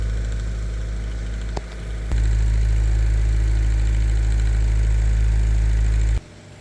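A large fan runs with a loud, steady low hum and airflow rumble, blowing at a 1 meter axial flux homebrew wind turbine, with brief dips in level partway through.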